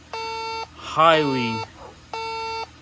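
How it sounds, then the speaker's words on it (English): A methane gas detector sounds two loud, steady electronic beeps separated by a pause, with someone speaking briefly between them near a leaking tankless condensing water heater. "It's an alarm."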